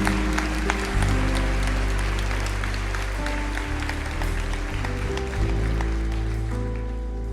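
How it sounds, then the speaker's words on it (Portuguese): Church congregation clapping in worship, a continuous wash of applause over sustained low organ or keyboard chords. "Aplauda ao Senhor."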